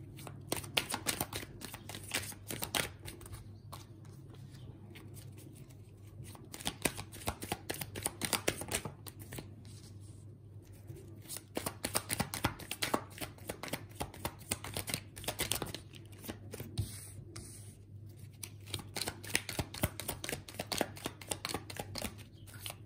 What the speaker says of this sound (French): On va essayer de faire un tirage à 9 cartes.